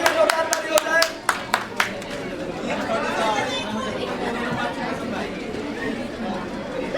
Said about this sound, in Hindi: और उन सब के लिए जोरदार ताली हो जाए